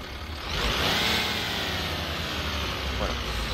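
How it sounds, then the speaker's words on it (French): Volvo 7700 city bus diesel engine in the OMSI 2 simulator cranking and catching, a loud rise of engine noise that settles into a steady rumbling idle, with someone talking over it. "On va démarrer le moteur."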